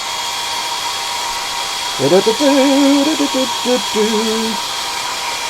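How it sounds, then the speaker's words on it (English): A hairdryer blows to dry paint on a miniature, a steady whirring hiss held throughout while a person speaks over it in the middle. "I'm going to crack out the hairdryer"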